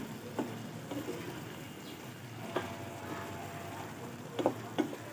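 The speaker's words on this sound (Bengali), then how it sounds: "কাজু কিশমিশ খেজুর আর আমসত্ব কেটে রেখেছিলাম সেগুলো দিয়ে দেবো এবার সেগুলো নাড়িয়ে চাড়িয়ে" Cashews, raisins, dates and mango leather are stirred into simmering tomato chutney, a soft, faint bubbling sizzle with a few scattered spoon taps and scrapes.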